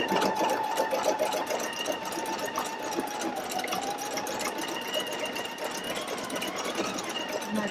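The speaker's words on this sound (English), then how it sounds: "I'm going to use this button, the start button, and it's going to embroider the design." A Pfaff Creative Icon 2 sewing machine runs an embroidery design at its highest speed, a fast steady mechanical whir and rapid needle chatter heard close up and continuously for several seconds.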